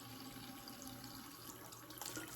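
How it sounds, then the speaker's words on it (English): Tap water runs steadily from a faucet as a makeup brush is rinsed and rubbed on a tea tree soap bar, a soft continuous wash with no voices. "I'm just going to go into the faucet, onto the soap bar here"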